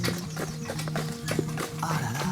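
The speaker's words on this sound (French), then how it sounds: "Des percherons. Des percherons, ça vient d'où ça?" Heavy Percheron draft horses walking, their hooves clip-clopping in a steady rhythm close by, with a brief whinny-like tone and some low background voices.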